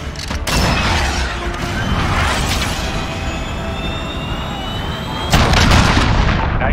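Gunfire in a Call of Duty game sounds as loud, continuous rumbling bursts with heavy booms, building toward a louder blast near the end.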